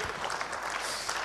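Audience applause at a round-table business event in Lille, a steady wash of many hands clapping at moderate distance for about a second, fairly quiet and without voices.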